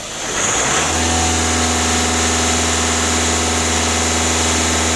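A VW Caddy 1.6 TDI diesel engine rises from idle to a held 2,500 rpm, its loud, steady mechanical drone close by and alone, with no talk over it.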